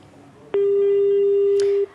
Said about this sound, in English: We seem to have lost Bongi on the phone line.